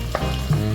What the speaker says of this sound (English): You hear them frying up?